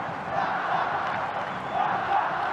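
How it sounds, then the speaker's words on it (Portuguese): A football stadium crowd at a Brazilian match between Fluminense and Corinthians chants steadily for the player Tartá, a broad, continuous roar of many voices held at a distance with little change across the stretch. "A torcida pede Tartá."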